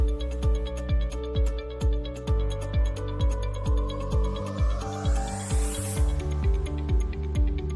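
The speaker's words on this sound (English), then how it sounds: "Spray some WD-40 and try to remove the ring with twisting motions" Repeated short hissing bursts of a WD-40 aerosol can, about a dozen quick sprays in a steady rhythm over a musical backing, close and fairly loud, with no talking.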